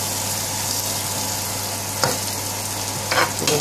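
Curry spice mixture for a chicken heart bhaji fries with a steady close sizzle, with a couple of brief stirring scrapes toward the end and no talking.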